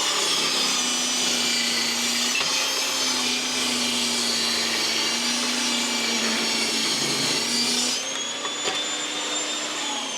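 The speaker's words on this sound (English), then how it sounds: "let's cut 2 identical pieces of wood" Evolution R255 jobsite table saw cutting wood with no dust extraction, a loud steady whining roar that runs throughout, its pitch shifting slightly near the end as the cut finishes, close and with no voices.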